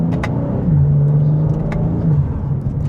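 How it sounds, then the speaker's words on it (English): A 2025 BMW M2 engine drones loud and steady with a rising whir of the turbo spooling under acceleration, a sustained close cabin sound with a slight dip and pickup near the end. "I love it when you can hear that turbo spool up and then it makes that stu-tu-tu-tu"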